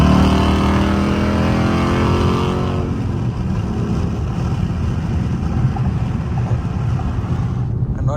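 A Dodge Charger RT pulls hard on the highway, its engine note loud and rising through the first seconds before settling into a steady roar with road and wind noise, heard from inside the car.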